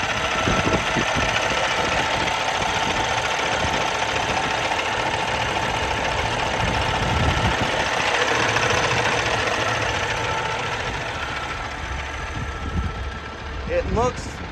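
A Cummins X15 engine idles in a 2020 Peterbilt 389 daycab truck, a steady low diesel chug that runs continuously while someone talks over it, easing slightly toward the end.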